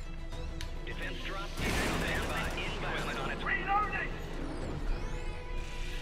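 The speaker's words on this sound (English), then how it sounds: "Ooh, machine gun turret." A machine gun turret in the Helldivers video game fires rapid, loud bursts of gunfire, with other battle noise and scattered shots before and after the main volley.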